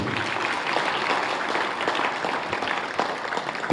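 Steady applause from a theatre audience honouring an actress after a stage play at a community arts event, dense and continuous throughout.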